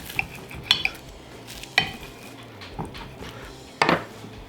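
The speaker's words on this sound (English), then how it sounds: "Let's cut into this. See if we can hear it. Oh yeah, you hear the crisp." A knife cuts into a crisp baked mushroom and spinach pastry braid, making sharp crackly crunches and scrapes at irregular intervals, close and fairly quiet against a faint room hum.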